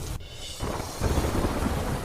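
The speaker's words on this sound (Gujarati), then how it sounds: "હિંમતનગર સહિત આસપાસના ગ્રામ્ય વિસ્તારમાં ખાબક્યો વરસાદ" Heavy rain falling around Himmatnagar with thunder, a brief crack of thunder at the start giving way to a steady, dense hiss of rainfall that grows slightly louder.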